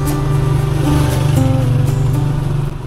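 A tuktuk engine puttering steadily while riding with a family, a loud close rhythmic drone with slight rises in pitch, with no talk over it.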